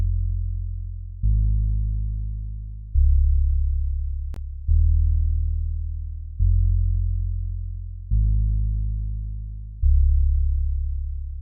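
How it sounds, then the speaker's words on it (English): The NA bass guitar preset from the Purity plugin, with distortion, plays a loud, solo low bass line of six repeated notes, each struck firmly and decaying before the next in a steady rhythm. "It's also from Purity, and I think it's called the NA bass guitar."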